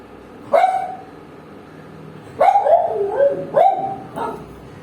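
A dog barks in three or four sharp bursts separated by pauses, fairly close and loud, with a whiny, yelping edge to some barks.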